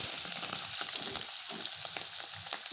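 Fish roe batter drops into hot oil in a pan and fries with a steady, bright sizzle and crackle, close and fairly loud, with faint stirring and spoon scrapes over the top and no voices.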